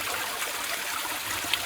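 Water trickles and streams steadily into a large plastic collection tub under a slitted rubberised plastic mat at a micro hydro intake in the Tasmanian mountains, a continuous close splashing hiss with no voices.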